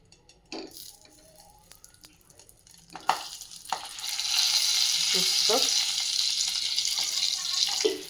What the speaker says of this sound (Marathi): आता तेल छानपैकी गरम झालं की आपण ह्या ज्या मिरच्या भरून घेतलेल्या आहेत ह्या मिरच्या एक एक करून आपण या तेलामध्ये घालून घेऊया